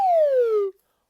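A slide whistle plays one clear, loud, descending glide during a second-grade music class warm-up, then cuts off sharply into silence.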